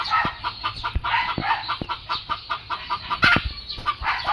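A hen clucks repeatedly after laying an egg, in quick, uneven bursts close by, with a few sharper squawks mixed in.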